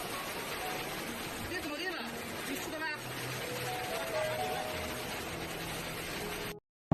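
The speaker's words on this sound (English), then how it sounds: "Yiyang, Hunan, was hit by heavy rain on the evening of June 7" Heavy rain pours down during an evening downpour that caused serious waterlogging in urban Yiyang, Hunan, a dense, steady hiss of rainfall and running water throughout, with faint background sounds beneath.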